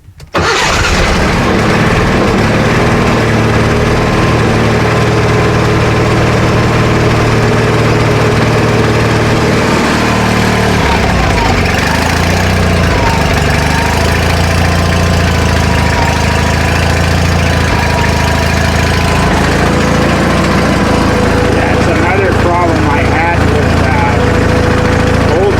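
A hard-starting small gasoline engine runs loud and steady throughout after being choked, its low droning hum continuous with some shifting rattles and a brief voice mixed in.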